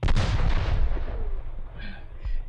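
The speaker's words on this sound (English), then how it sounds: "That is cannon fire." Cannon fire as a sound effect in a pirate-port fantasy story setting, with a heavy booming blast followed by a long rumbling decay and a couple of smaller distant thuds.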